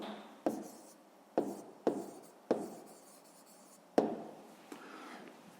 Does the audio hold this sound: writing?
yes